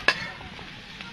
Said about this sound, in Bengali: আমি এটা নাড়াচাড়া করে ভেজে নেব